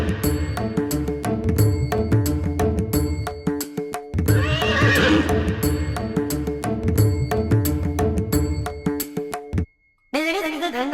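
An Arabian horse whinnies loudly and repeatedly at close range, long shrill neighs with a ringing, tonal quality, followed after a brief silence by a higher, wavering call.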